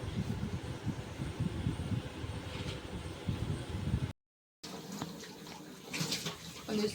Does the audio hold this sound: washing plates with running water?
yes